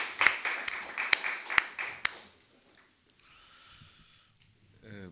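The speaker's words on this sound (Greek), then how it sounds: "για τον οποίο χρειάζεται ένα χειροκρότημα." An audience applauds a publisher at a Greek book presentation event, a short burst of sharp, loud claps that fades after about two seconds, followed by quiet room noise and a voice starting to speak.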